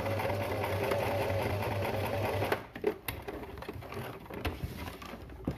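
A sewing machine stitches fabric for a protective mask, running in a fast steady whir for about two and a half seconds before stopping, followed by softer handling clicks and rustles.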